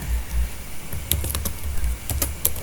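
Text is typed into the nano editor on a computer keyboard, with quick, irregular key clicks close by over a low background hum and no voices.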